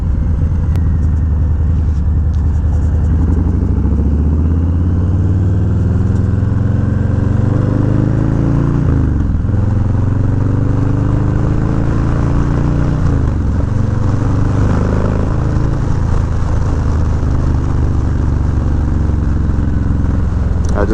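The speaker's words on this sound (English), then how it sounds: "I just love to hear the sound of this bike, man" A motorcycle engine runs steadily throughout a ride, its low, throbbing drone continuous and fairly loud, with brief dips and rises in pitch as the rider shifts or eases off around a right turn.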